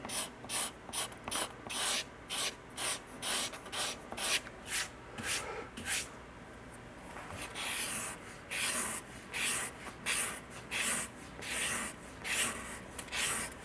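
A thin, flexible steel scraper finishes the arched top of an archtop guitar in steady, rhythmic strokes. The close, dry rasps repeat about twice a second with a brief pause in the middle, and there is no speech.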